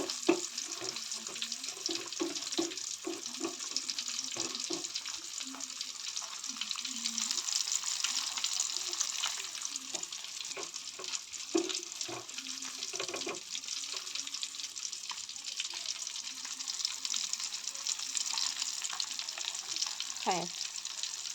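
Fish rava fry, rava-coated fish pieces deep-frying in oil, gives a steady close sizzle that holds through the whole stretch, with light clinks and stirring and a voice now and then.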